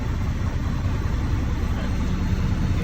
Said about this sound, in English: I'm going to go forward slightly